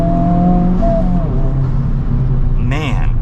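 A 2024 Honda Civic Type-R engine pulls hard under acceleration on the road, a loud close drone rising in pitch with a quick gear change near the end, a voice talking over it.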